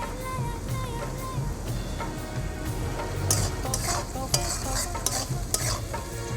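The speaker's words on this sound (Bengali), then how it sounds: "ভালো করে টমেটমগুলোকে গেলে দেবো খুন্তি করে টমেটমগুলো একদম নাড়তে নাড়তে" Salted tomatoes fry in a pan while a spatula stirs them: a continuous, moderately loud sizzle with repeated scraping strokes and a few sharper clacks against the pan.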